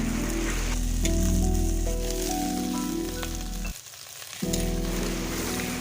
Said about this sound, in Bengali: এবার আরও কিছুক্ষণ মশলাটা কষাই করে নেবে।